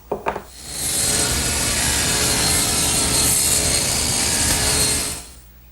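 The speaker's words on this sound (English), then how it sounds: "So I've taken my saw and tilted it to 25 degrees and adjusted my rib fence so as to leave about 3/8 of an inch of material." A table saw with its blade tilted to 25 degrees bevel-cuts a wooden armoire part against the rip fence: a loud, steady, close roar of blade through wood for about four seconds, then it stops.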